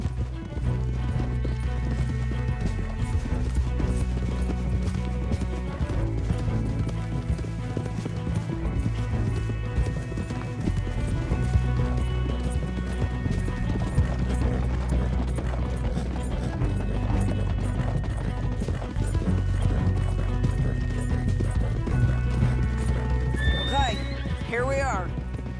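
Horses whinny and hooves clatter in a rapid galloping rhythm over dense music and effects, with voices speaking in the mix, in the video game Red Dead Redemption 2.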